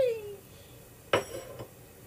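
A yellow plate and other dishes are handled at home, giving one sharp clink of crockery followed by a softer second knock, close by and otherwise quiet.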